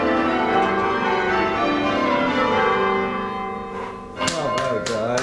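Church bells rung by a university guild of ringers at a practice session, heard as a loud, dense wash of overlapping peals with sharp strikes near the end, under clapping and voices.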